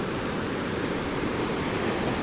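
Large sea waves near a pier make a steady, loud, broadband roar of surf that continues without a break throughout.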